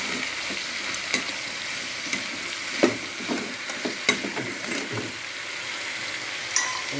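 Okra (vendakka) frying in a pan with oil, a soft constant sizzle beneath repeated scraping stir strokes and occasional light clinks of a utensil against the pan.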